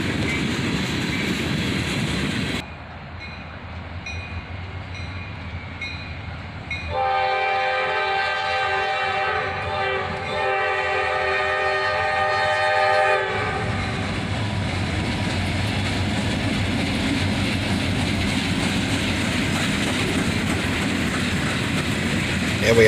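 A freight train led by an SD40-2 locomotive passes, sounding a long multi-tone horn over the rumble, then wheels clatter steadily along the rails as the cars roll by.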